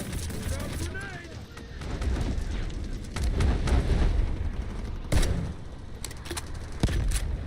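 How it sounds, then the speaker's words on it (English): A grenade blast in the shooter Delta Force, with loud bursts and rumbling gunfire across a busy battlefield and sharp explosive cracks recurring over several seconds. "Grenade!"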